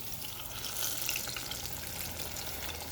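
Chicken pieces frying in hot oil that has cooled slightly, a steady close sizzle and crackle running throughout with no voices and a small clatter near the end.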